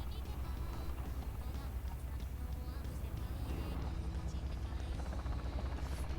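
A helicopter's rotor thumps steadily over a rumbling engine drone as it approaches in War Thunder, with a busy mix of game background noise throughout.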